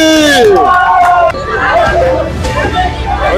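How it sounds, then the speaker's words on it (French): A group of street children shouts and cheers together in acclaim of Jesus, a loud, close crowd of overlapping young voices. "Acclame Jésus"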